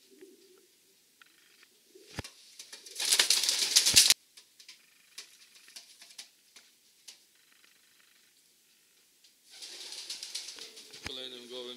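Racing pigeons from a breeding loft coo softly and intermittently, with bursts of wing flapping and rustling and a few sharp clicks in a quiet indoor space.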